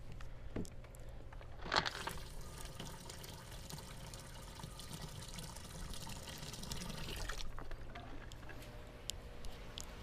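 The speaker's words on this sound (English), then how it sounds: "So let's pour out some of this water." Water pours and splashes steadily for several seconds, a continuous trickling wash with a brief knock near the start, fairly close.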